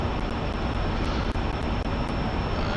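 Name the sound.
MiG-15 jet engine in DCS video game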